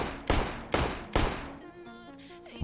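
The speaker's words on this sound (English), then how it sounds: "I just shot to scare him" Three sharp gunshots in CS:GO Danger Zone come in quick succession, each with a short decaying tail, followed by faint tonal game sounds.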